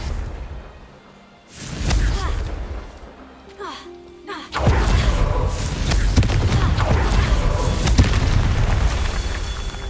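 A Confringo blasting curse explodes in Hogwarts Legacy: a brief rumble and crackle near 1.5 s, then a heavy booming blast near 4.5 s that rolls on with loud crackling debris and rumble to the end, with faint voices under it.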